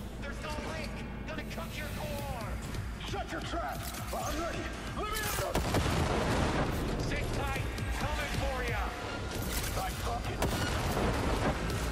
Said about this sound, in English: Oh yes, I get to use my grenade launcher now.